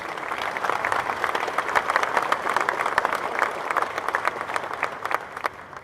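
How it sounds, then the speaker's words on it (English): A crowd at a statue unveiling outside Ohio Stadium bursts into sustained applause, many individual claps crackling sharply and densely across several seconds, fairly distant and even. "Let's give them a big round of applause"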